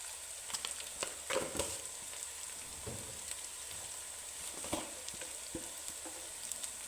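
Onion and spice masala fries in a pan for aloo baingan, a soft steady sizzle with scattered faint pops and light stirring clicks, no voices.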